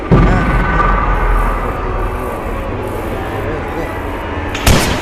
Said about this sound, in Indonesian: Tembak shotgun sama si grandpa.